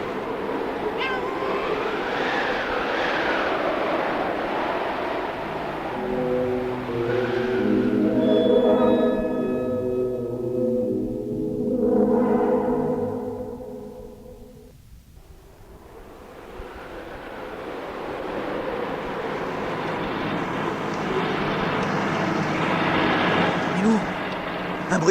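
An engine drones in a desert sandstorm, rising and falling in loudness, with a brief hush partway through before the noise swells again, while voices speak throughout.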